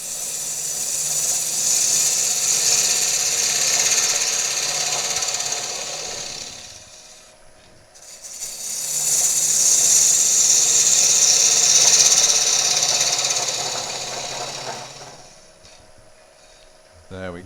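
A wood lathe hollowing a piece with a slightly smaller gouge in a tight space, a loud continuous hissing scrape that fades near the middle and again near the end as the cut pauses, with no talk over it.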